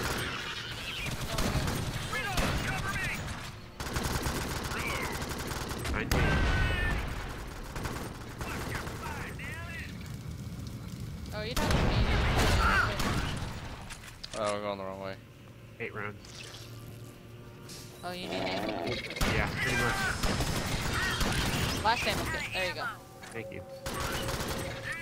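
Bursts of gunfire from the Alien Swarm video game rattle on and off through a long stretch, with voices talking over and between the shots.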